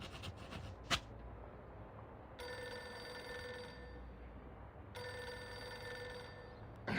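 A telephone rings in the video game Reverse 1999, two bursts of a bright electronic ring over a quiet ambient background, with a soft click near the start.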